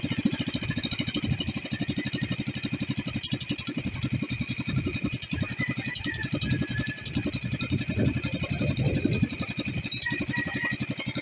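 A racing boat engine runs steadily with a rapid, even pulsing chug at close range, carrying a slight fuel problem. Occasional irregular stumbles break through the rhythm.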